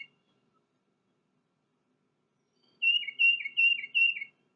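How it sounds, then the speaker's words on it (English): Tufted titmouse calling, a quick series of four clear, repeated whistled notes heard alone after a stretch of silence, moderately near and distinct. "And here's a tufted titmouse,"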